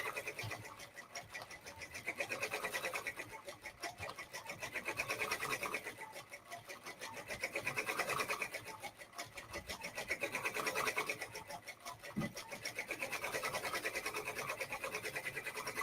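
A home embroidery machine stitches felt onto a hat, giving a steady rapid rasping chatter that swells and eases in slow waves, with a brief thump near the end and no voices.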